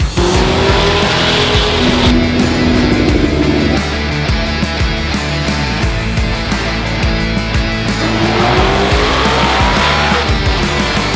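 Race cars roll racing at a Street Car Takeover event in Michigan, loud engines revving and rising in pitch as cars launch and pass, with tire squeal and skidding over a continuous roar.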